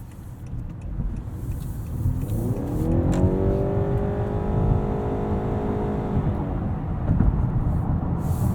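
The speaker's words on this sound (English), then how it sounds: "You get a lot more power instantly in sport mode. Actually, let's try that right now and see how it does." A 2021 Honda Accord Hybrid Touring pulls hard in sport mode, its drivetrain whine climbing steadily in pitch over several seconds before leveling off, heard from inside the cabin over constant road rumble.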